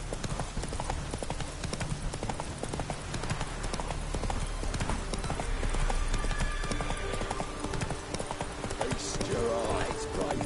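Galloping hoofbeats of a horse in The Witcher 3 on PS5, a rapid steady clip-clop running throughout amid game ambience and background sounds, no talk.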